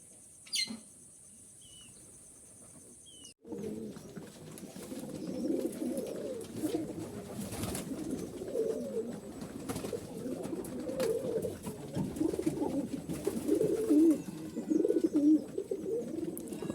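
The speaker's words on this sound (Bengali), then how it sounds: "কবুতর সব ওই যে গাছে" Pigeons in trees give low, repeated cooing that stays fairly soft but steady after a brief quiet stretch at the start, with faint chirps and outdoor background noise.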